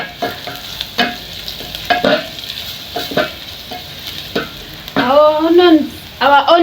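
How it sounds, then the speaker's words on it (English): Onions fry in a pan for pilau with a constant sizzle and intermittent spoon scrapes, close and loud; a brief voice-like melodic sound rises near the end. "we are going to wait our onions to cook until it turns brown"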